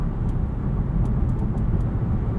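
Steady engine and road noise fill a 2024 Nissan Altima 2.5 SL AWD as it accelerates hard from a standstill, with a continuous low drone from the cabin and a few faint clicks on top.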